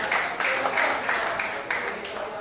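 Audience applause for a band at a large community meetup in Indonesia, heard as a moderate, somewhat uneven clatter of hands with a few stronger bursts, a little distant and with crowd murmur.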